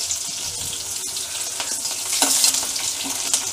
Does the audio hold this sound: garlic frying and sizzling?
yes